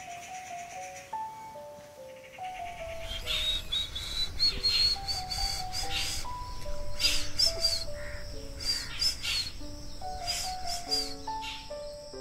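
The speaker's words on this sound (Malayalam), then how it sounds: "ഇതിനെ ബ്രെയിൻ ഫീവർ ബേഡെന്നാണ് വിളിക്കുന്നത്." A common hawk-cuckoo, the brain fever bird, calling in the wild with repeated rising whistled phrases that climb in pitch, clear and fairly near, over a steady hiss of insects and other faint birds.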